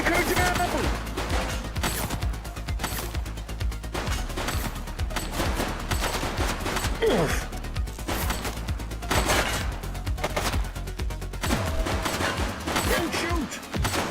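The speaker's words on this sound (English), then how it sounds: "Shots fired!" Dense, sustained gunfire in the police video game The Precinct, with continuous loud shots and bursts filling the whole stretch under a busy action soundtrack and occasional shouting.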